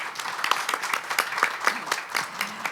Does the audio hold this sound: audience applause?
yes